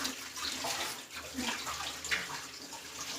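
Water pours and splashes steadily while a girl's hair is washed at home, a soft continuous wash heard close up with faint background sounds.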